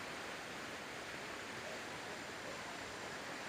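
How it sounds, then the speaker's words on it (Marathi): A steady, unbroken rush of a waterfall between two hills in a forest, broad and hissing, with no voices or other sounds. "इथे एक दुसरा एक धबधबा आपल्याला दिसलेला आहे हा धबधबा पण खूप सुंदर आहे"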